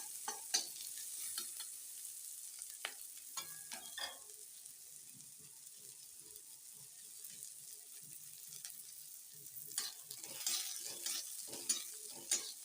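Red lentils for spinach masoor dal frying in a little oil in a pan, a quiet continuous sizzle with scattered scraping and clinks from stirring, fairly faint and without talk.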